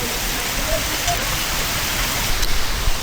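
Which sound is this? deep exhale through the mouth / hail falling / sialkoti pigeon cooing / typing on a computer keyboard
hail falling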